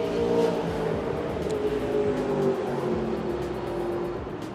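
Several Porsche race cars, Cayman GT4s among them, round a bend at Sepang International Circuit during qualifying, engines droning and shifting pitch as they pass at mid distance, with no talk over them.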